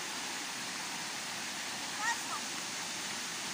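A river flowing outdoors: steady broadband rushing water, constant and fairly loud, with a faint voice briefly heard over it.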